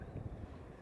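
Cold wind gusting over the sea wall at Grimsby's North Wall on the East Coast, a steady low rumbling buffet against the microphone with slight surges, no voices.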